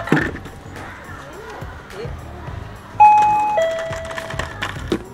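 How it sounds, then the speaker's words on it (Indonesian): An automatic school bell or chime sounds when pupils drop a ball into an attendance device, giving a clear two-tone ding-dong around the midpoint over a busy, murmuring classroom background. "ketika murid-murid memasukkan bola secara automatik, loceng akan berbunyi."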